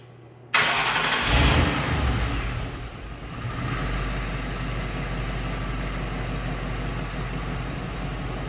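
A 1964 Ford F100 pickup engine cranks briefly, catches and starts, then settles into a steady, fairly loud idle close by.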